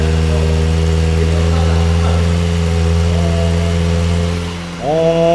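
A Kawasaki ZX-4RR sport motorcycle engine idles steadily with a deep, even rumble, close by, then dips briefly before a quick rev near the end.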